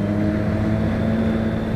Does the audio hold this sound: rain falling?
no